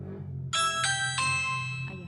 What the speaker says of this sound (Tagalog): So, mag-doorbell siya.